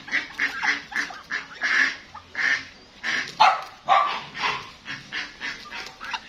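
Ducks and geese kept together on a farm honk and quack in a steady series of loud, close calls, overlapping one another with no talking.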